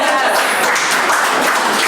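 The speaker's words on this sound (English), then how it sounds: "let's also take one moment again to applaud our panel" Audience applauding a panel at a storytelling project reunion, a dense steady wash of many hands clapping together, loud and continuous throughout.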